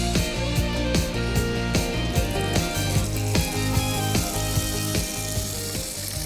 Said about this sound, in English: I love that sizzle.